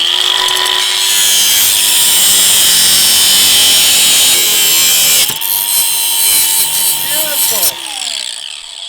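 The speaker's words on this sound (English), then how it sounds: "That's with the angle grinder, because that's what we got." An angle grinder cuts metal during a 1JZ engine swap, a loud sustained whine and grinding rasp that runs steadily, dips briefly midway, then resumes before winding down; no talking is heard.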